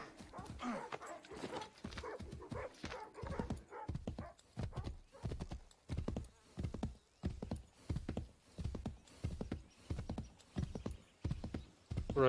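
Horse hooves clip-clop in a steady trotting rhythm for several seconds in the video game Assassin's Creed III, with a brief whinny near the start; close and moderately loud.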